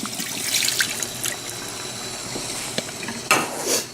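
Water is poured and swirled into a calorimeter in a specific heat lab, a short run of splashing and trickling with clinks of equipment, fairly close and moderately loud.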